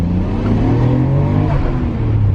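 Nissan Skyline R33 GTR engine in Japan, a steady loud mid-pitched rev and drone held for a couple of seconds, close by with no talk over it.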